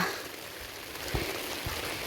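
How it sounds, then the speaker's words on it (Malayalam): Steady rain falls with a dense, even hiss, a couple of heavier drips landing close by, with no voices. "മഴ പെയ്ത് കേട്ടോ"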